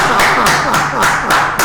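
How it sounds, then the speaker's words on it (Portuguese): Studio applause in a local television talk show: steady, dense clapping from a small audience filling the whole moment, with a few louder bursts standing out near the microphone. "Querido Vênio, uma salva de palmas para ti."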